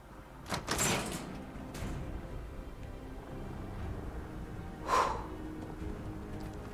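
A door in Fallout 4 slides open with a short whooshing hiss, and a second similar swish follows a few seconds later over a quiet hum.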